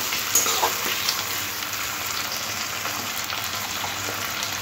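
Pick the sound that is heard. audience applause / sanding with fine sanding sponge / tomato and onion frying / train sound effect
tomato and onion frying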